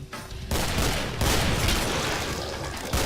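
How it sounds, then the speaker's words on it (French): Shotgun blasts in the video game Killing Floor come as a few loud, close booming shots with heavy rolling tails, one right after another, with no voices. "Donc lui à l'ancienne au fusil à pompe, hein."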